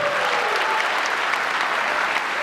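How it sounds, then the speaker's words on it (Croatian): Audience applauding dancers at the Porin '95 music awards concert, a dense, steady wash of clapping from a large crowd that holds at a constant level throughout, with no voices on top. "Pozdravite jednim velikim pljeskom ako su bili dobri."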